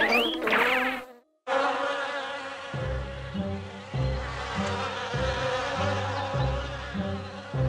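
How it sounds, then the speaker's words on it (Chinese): An angry bee buzzing in a children's cartoon, a wavering insect drone that runs continuously over a bouncy musical backing after a brief pause near the start. "愤怒的蜜蜂。"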